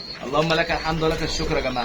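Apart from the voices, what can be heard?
pigeons cooing in a home loft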